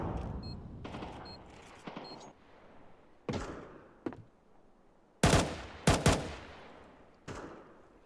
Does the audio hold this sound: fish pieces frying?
no